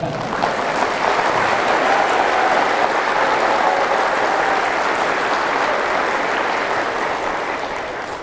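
A large audience at a religious and humanitarian gathering claps loudly and continuously, a broad wash of applause that holds steady and eases slightly toward the end, with no speech over it.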